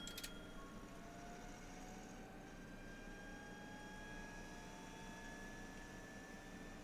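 Cockpit ambience of a $70 add-on airliner in Microsoft Flight Simulator, a low, steady engine and systems hum with thin whining tones slowly drifting upward, continuous and even with no talking.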